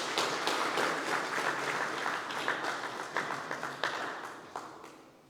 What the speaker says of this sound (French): Bon, déjà, un grand applaudissement pour le docteur Sita Digna.